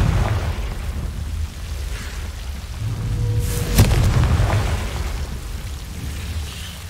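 Blasting-spell explosion in the Hogwarts Legacy video game: a sharp burst lands mid-clip over a steady low rumbling game ambience, then fades back into the background drone.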